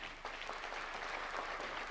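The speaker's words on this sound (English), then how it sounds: "A round of applause, please." Steady, dense applause from a large audience at a National Defence University graduation ceremony in Kenya, fairly even and mid-distance throughout, no speech over it.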